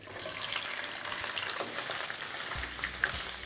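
A second batch of paneer cubes fries in hot oil, giving a continuous close hiss and sizzle with a low bubbling undertone and a brief clink near the end, without speech.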